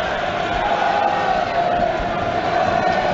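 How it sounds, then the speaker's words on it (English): Rugby stadium crowd at a Cardiff versus Sale Sharks European Challenge Cup match, a loud, steady roar of cheering and chanting that fills the whole clip without a break. "As we hear the crowd try and get behind the Cardiff boys."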